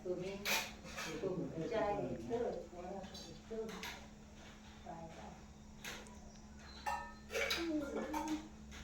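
Metal pots and dishes clank and bang in sharp scattered hits while people talk over the clatter.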